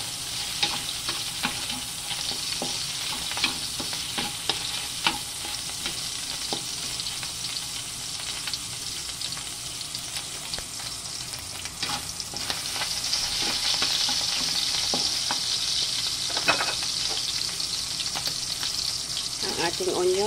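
Chicken fat and garlic fry in a pan with a steady, close sizzle that runs throughout and swells slightly later on, while someone talks over it and stirring clicks and scrapes come and go.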